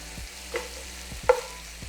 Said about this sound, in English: After a minute, you're going to give your salmon a little toss and just cook it until it is cooked